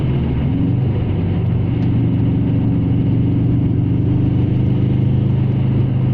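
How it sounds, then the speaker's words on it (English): A Subaru Impreza engine runs with the throttle lightly blipped, a loud, steady, close mechanical drone with a rough low rumble and only slight swells in intensity throughout. "I'm tickling the throttle here."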